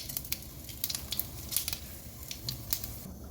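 Mustard seeds crackle in hot oil as a tempering, with sharp, irregular pops scattered over a faint background hiss. The pops come close together, sometimes in clusters, at a moderate distance.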